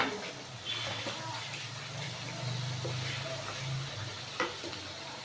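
Dried fish frying with sweet potato, turmeric, chili and coriander powder in a pan, giving a steady low sizzle with occasional stirring scrapes and a brief clink.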